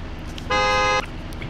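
A car horn in a driving video game gives one steady, bright honk lasting about half a second, loud and clear over a low background hum, with no voices.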